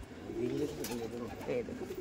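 Pigeons coo in short, soft, throaty bursts close by, a couple of rolling calls over two seconds.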